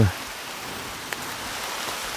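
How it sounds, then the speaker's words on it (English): Steady, dense rain hisses continuously on a walking path in Laroque des Albères, France, with a few sharper drops standing out against the constant wash. "It's really starting to pour down now"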